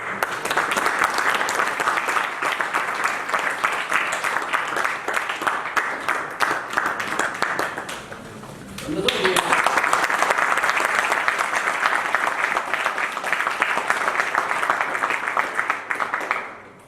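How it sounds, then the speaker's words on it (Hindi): Audience at a national seminar marking Swami Dayanand Saraswati's birth anniversary clapping steadily through a welcome ceremony, dense sustained applause with a brief dip midway before resuming and fading out. "आप सब लोग स्वागत के समय तालियां बजाते रहे अच्छे से।"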